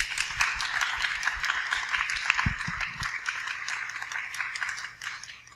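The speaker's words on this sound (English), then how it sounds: "Let's give a round of applause for our panelists" Applause from a live audience greeting panelists at a psychedelic-guiding podcast event: steady, dense clapping that is fairly close and carries on throughout, easing off slightly toward the end, with no talking.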